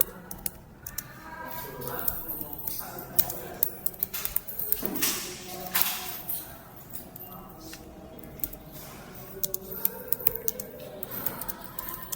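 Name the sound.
typing on a computer keyboard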